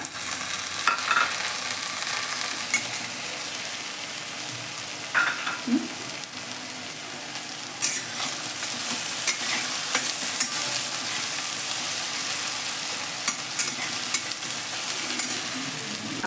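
Garlic and tomatoes fry in a pan for tomato upma, a soft steady sizzle broken by the clink and scrape of stirring, fairly faint and close, with no talking.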